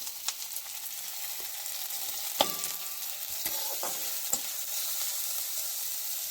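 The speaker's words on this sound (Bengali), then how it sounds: "পেঁয়াজ কুচিগুলো একটু ভালোভাবে ভেজে নিতে হবে" Chopped onions with black cumin sizzle in hot oil in a home kitchen, a soft steady crackle under several sharp clinks of a spatula stirring against the pan, close and alone without speech.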